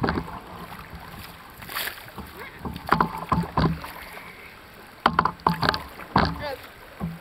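A canoe is paddled on open water, with close, intermittent splashes and thuds of paddle strokes against a soft background of wind, and people briefly talking.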